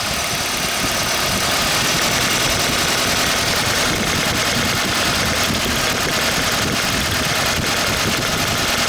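A car engine idles loud and close, a steady rumbling drone with irregular cracking and knocking from a faulty ignition coil running through it.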